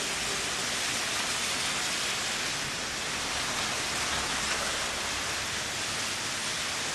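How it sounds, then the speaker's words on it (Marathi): Dense, steady roar of heavy monsoon rain pouring down on Mumbai without pause, loud and even throughout. "मंत्रालय आणि मलबार हिल या भागामध्ये जोरदार पाऊस या ठिकाणी बरसतोय"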